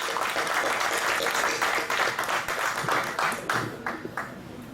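A film crew claps to thank the audience at a movie success meet, with dense, loud applause that thins out into fewer scattered claps toward the end.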